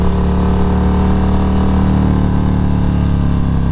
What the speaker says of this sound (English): one thing that I do really like about this bagger, about the Road Glide Special, is just how smooth the RPM ranges feel.